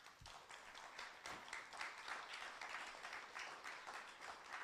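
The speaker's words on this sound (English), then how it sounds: "please give us a round of applause for the two of you" Conference audience giving a round of applause to two panel speakers, steady mid-distance clapping that stays fairly even across the stretch, faint overall.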